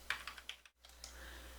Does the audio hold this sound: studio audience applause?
no